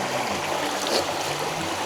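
Clear mountain stream on Cadair Idris flowing steadily in a continuous broadband rush, close and even throughout, with no talking.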